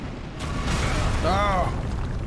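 Fire flares up in Elden Ring Shadow of the Erdtree with a sudden whooshing burst, then a loud, sustained roaring burn; a brief voiced exclamation cuts through the middle.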